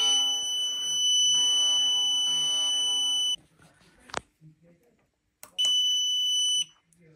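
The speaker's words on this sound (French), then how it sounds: "Voilà, l'alarme s'est déclenchée" A Carprotec vehicle alarm sounds in long, piercing tonal blasts, cutting off abruptly, then a short gap with light rustling before another loud burst.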